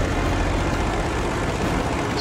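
American propeller plane flying in Battlefield V, a steady, loud engine drone that holds without a break for the full two seconds.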